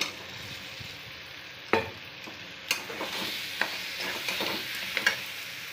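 Potatoes stirred into hot fried spice paste in a pan for a potato curry, a steady sizzle and frying hiss with scraping stir strokes and small clicks of the spatula, close and moderately loud.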